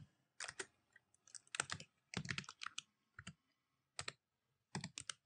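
Typing on a computer keyboard while renaming a peg in Harmony 11 animation software, heard as bursts of quick, close key clicks separated by short pauses, with no talking.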